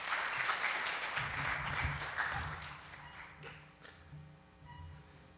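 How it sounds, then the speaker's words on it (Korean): Audience applause at the Digital Economy Forum 2018 welcoming a speaker from Indonesia to the stage, a steady crowd clapping that gradually thins and fades over several seconds. "나오실 때 큰 박수로 환영해 주시기 바랍니다"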